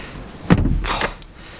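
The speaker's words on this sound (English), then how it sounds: "I can hardly open the door." A door pushed open against strong wind during severe stormy weather, a single thump and rattle followed by a short rush of gusting air, close and fairly loud.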